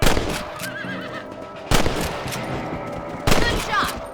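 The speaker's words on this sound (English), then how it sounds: "You're better at shooting rabbits than outlaws" Three sharp rifle shots ring out in Red Dead Redemption while hunting rabbits, spaced roughly a second and a half apart, each loud and close over a steady outdoor ambience with a horse whinnying between them.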